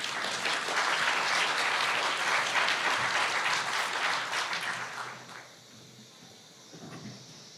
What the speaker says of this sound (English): So I would like to have a big applause for Mr. Øystein Bø.